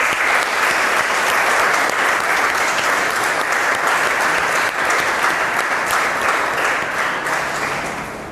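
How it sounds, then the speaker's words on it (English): Steady, dense applause from a class fills the whole stretch at an even level, with no voices over it, then tapers slightly at the end. "Clap for Kanika"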